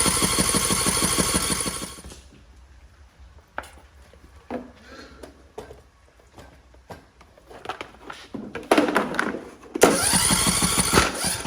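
A John Deere D100 lawn mower engine that had trouble turning over fires up with a loud, steady running roar, then cuts out into quieter clattering and handling noises before the engine roars back to life near the end.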